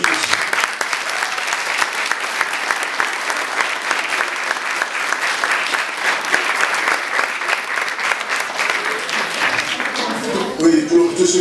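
An audience at a Christmas celebration show applauds warmly, a dense, steady wash of clapping that continues at a fairly loud level before tapering off near the end, with a voice briefly audible over it.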